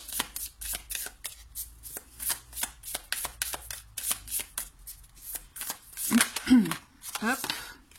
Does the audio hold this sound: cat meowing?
no